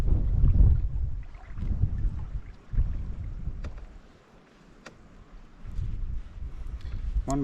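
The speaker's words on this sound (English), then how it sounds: "That wind." Low, rumbling gusts of wind buffet the microphone in waves on a lake canoe route at Ranger Lake, easing for a moment before surging again, with faint outdoor clicks.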